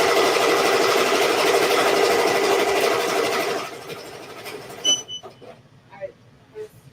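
A Ricoma EM1010 embroidery machine stitches a placement line, a close, steady, fast mechanical hum and rattle that stops about halfway through, leaving a few faint clicks and some brief voices.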